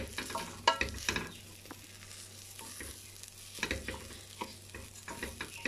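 Rice sizzling in a frying pan while stirred with a utensil, a steady low crackle broken by irregular scraping strokes and a few sharper clinks, close by with no talk.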